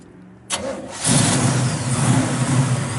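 A 1969 Chevrolet Camaro SS 396 big block with a 4-speed cranks briefly on a very cold day, then fires up into a loud, rumbling idle close by.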